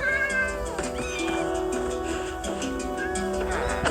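A house cat meows and wails repeatedly in long, drawn-out pitch-bending cries, close and fairly loud, while people talk nearby.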